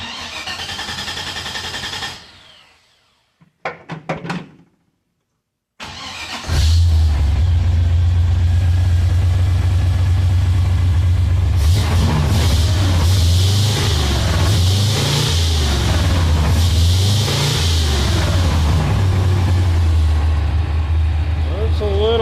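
A car engine fitted with new spark plugs cranks in a few short bursts, goes quiet, then catches and settles into a loud, steady idle that rises and dips with throttle blips.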